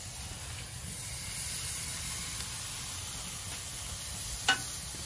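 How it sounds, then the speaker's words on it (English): Skirt steak sears on a Weber Kettle 26-inch charcoal grill, giving a steady, moderate sizzle and hiss that holds evenly throughout, with one brief sharper crackle near the end and no voices. "we're gonna let it sear up here, get some nice marks"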